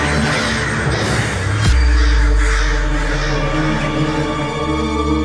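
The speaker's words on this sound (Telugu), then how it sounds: "కాకులు" A flock of crows caws in loud, overlapping calls in a royal court drama scene, with a deep rumble and music swelling underneath.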